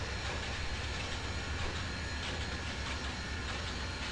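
Steady rolling rumble of a train in a model railroad video game, a continuous low drone with faint clickety-clack, loud and even throughout with no talking.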